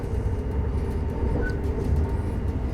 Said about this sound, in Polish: prując 160 km na godzinę y, w tym oto pięknym pociągu.